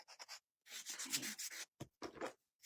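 Sandpaper rubs against a small wooden miniature craft house in short bursts of scratchy strokes, close and fairly loud, with brief pauses between passes.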